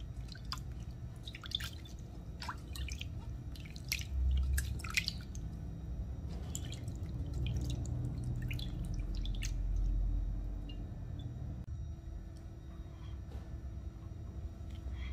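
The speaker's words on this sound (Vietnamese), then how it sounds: "Sau khi mình massage xong mình sẽ tắm lại bằng nước ấm." Warm shower water patters and drips steadily on skin during a body rinse at home, a continuous close wet spatter with scattered sharper droplet splashes and no talking.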